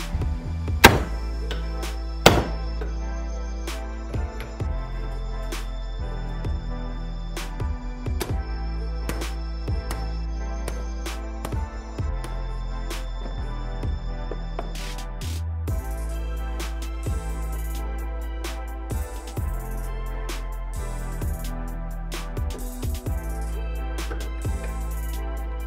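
Repeated hammer strikes drive a U-joint out of a vehicle driveshaft yoke, sharp metallic bangs landing one after another at an uneven pace across the stretch, close and loud with a few especially heavy blows near the start.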